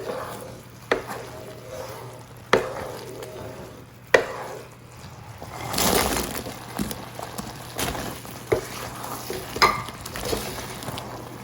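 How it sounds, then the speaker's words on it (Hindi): Chicken pieces go into a thick Manchurian sauce in a pan and are stirred, with repeated utensil knocks and scrapes over a soft, continuous sizzle, close and clear. "अब मैं इसके अंदर ये चिकन डाल रही हूँ।"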